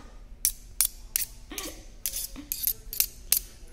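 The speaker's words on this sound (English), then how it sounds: "sharpen up these scissors." A pair of scissors being sharpened before clipping, giving about ten short, crisp metallic strokes at a brisk, fairly even pace, close by and quiet, with no talk.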